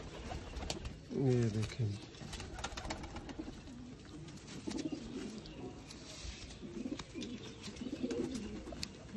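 Teddy breed pigeons coo in a short rolling burst near the start, followed by softer scattered cooing and rustling, with someone talking over them.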